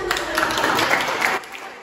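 A classroom of pupils gives a short burst of lively clapping that lasts just over a second, then cuts off into quiet.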